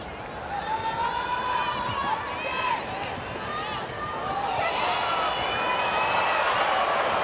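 A stadium crowd at a women's rugby sevens match between Japan and Canada in Vancouver roars and cheers steadily throughout, with a commentator talking over the noise.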